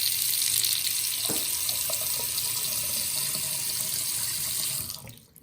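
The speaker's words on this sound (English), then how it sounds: "I'm going to turn on my cold water first" A sink faucet runs with a steady, full hiss of water, a faint clunk partway through, then the flow is shut off near the end.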